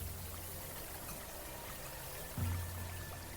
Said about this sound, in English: There's the sound of nearby water from a river